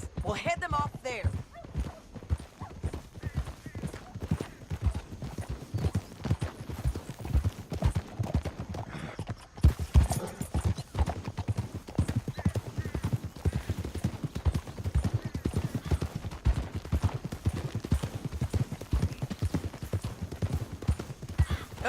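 Horses ride along in Red Dead Redemption 2, with steady rhythmic hoof clip-clops throughout and a brief whinny, while characters talk over the galloping.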